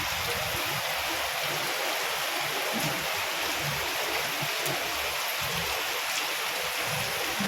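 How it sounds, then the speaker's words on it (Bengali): Heavy rain pours steadily on the evening of a heavy downpour, a dense continuous hiss with faint low rumbles, close and unbroken throughout. "ভালোই বৃষ্টিটা হচ্ছে, অনেক জোরে জোরে হচ্ছে।"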